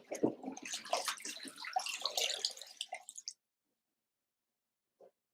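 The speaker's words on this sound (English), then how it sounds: "And then we're going to pour it back into the pot." Pureed butternut squash soup being poured from a blender back into a cooking pot, a thick, close, continuous splashing and gurgling pour for about three seconds, then near silence with one faint clink.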